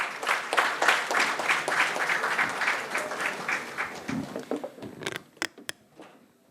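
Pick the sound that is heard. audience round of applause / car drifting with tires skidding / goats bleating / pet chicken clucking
audience round of applause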